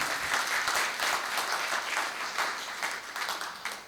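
Steady, dense applause from the audience at a Kavi Sammelan poetry gathering in Rohtak, heard from a distance and fading slightly toward the end.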